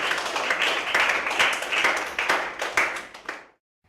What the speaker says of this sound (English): give yourselves a big clap.